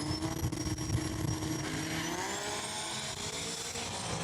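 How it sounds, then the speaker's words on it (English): A 2001 Chevy 2500 diesel truck races down a drag strip at a raceway, a sustained engine roar with rising tones as it accelerates, loud and continuous throughout with no talking. "The diesel truck, man, that thing was hauling."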